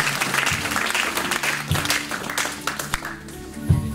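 A church congregation applauds together in a dense, steady wash of clapping that fills the room and thins slightly toward the end, with no clear speech over it.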